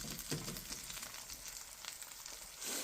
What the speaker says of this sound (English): So let's flip the egg over.